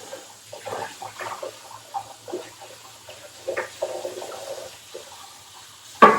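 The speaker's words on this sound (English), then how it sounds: "So let me rinse this off real quick. It's the food processor lid." Food processor lid rinsed under a running kitchen tap: soft, irregular splashing and trickling water with uneven bursts, faint overall, ending in a sharp louder splash.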